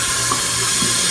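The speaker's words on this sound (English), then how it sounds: "You can let the water run into the end of the hose and you can see it's coming out the other end." Water from a tap runs steadily through a whip hose being rinsed after a salt and alcohol cleaning, a constant close hiss and splash with no pauses and no talking.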